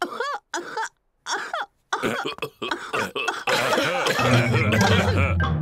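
Several short coughing fits, sharp and close, separated by brief silences, then a longer stretch of coughing over a steady musical backdrop, from a Peppa Pig cartoon.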